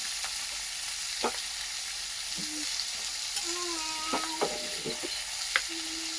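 Katla fish pieces fry with chopped green chili in a pan, a quiet steady sizzle with a few light knocks of stirring and some faint tonal squeaks in the background.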